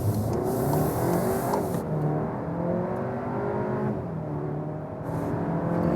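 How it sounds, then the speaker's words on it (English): A Volkswagen Arteon Shooting Brake R-Line with front-biased all-wheel drive accelerates from a standstill, its engine note rising steadily from inside the cabin in a smooth, continuous drone with no talking. "what happens when I accelerate out here from standstill?"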